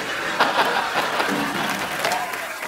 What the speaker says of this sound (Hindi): सरला के लिए जोरदार तालियां